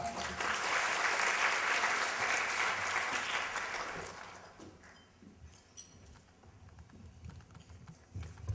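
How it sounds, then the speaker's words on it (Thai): A crowd applauds loudly and steadily for about four seconds, then the clapping thins out to scattered claps and faint background noise. "ขอเสียงปรบมือนะครับต้อนรับคุณสุภวรรณตีรรัตน์ครับ"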